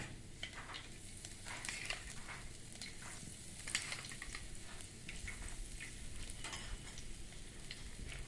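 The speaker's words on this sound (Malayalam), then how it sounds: "നമ്മുടെ ചട്ടി ചൂടായിട്ടുണ്ട് അതിലേക്ക് നമുക്ക് ഏകദേശം ഒരു നാല് സ്പൂണോളം വെളിച്ചെണ്ണ ഒഴിച്ചു കൊടുക്കാം" Coconut oil heats in a hot clay pot for a Kerala theeyal, giving a faint, steady low sizzle with scattered soft crackles and no voices.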